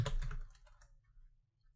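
Quick burst of computer keyboard keystrokes, close clicking clatter that thins out into a few scattered faint taps over a low hum.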